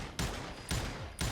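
Gunfire in the Western shooter game Call of Juarez Gunslinger: three loud, sharp shots spaced about half a second apart, each with a short decaying tail, and no voice over them.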